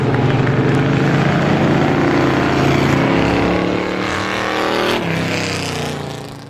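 Race cars at a vintage feature at Star Speedway blast past the finish line, engines roaring loudly close by, then fading and changing pitch as they pass.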